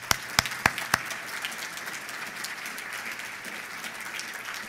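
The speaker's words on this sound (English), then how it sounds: "Please stand, a round of applause as well." An audience at a congressional presentation breaks into applause, a few distinct claps at first swelling into steady, moderately distant clapping from many hands.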